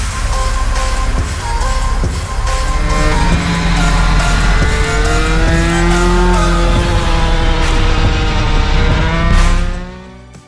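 A tuned 18 hp Puch Maxi moped launches on a race circuit, its small two-stroke engine a loud, sustained buzzing drone that rises in pitch as it accelerates, steady and close for about nine seconds before cutting away.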